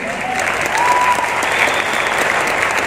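Loud, steady audience applause at a motivational business seminar, close and dense clapping throughout with no one speaking.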